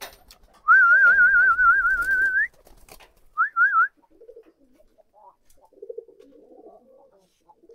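Lakkha pigeons call out in a few warbling, whistle-like phrases, one long and then two short, at close range. Quieter faint coos and stirring follow in an otherwise still setting.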